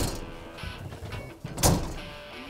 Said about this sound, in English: Let me just show you how easy it is to pop the top on this.